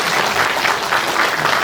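Audience applause for a lecturer at a continuing-education session of a Korean digital photographers' association, a steady dense wash of hands clapping without pause, loud and close throughout with no talking.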